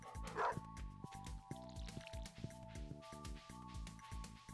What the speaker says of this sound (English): pet the dog, say hello to the animals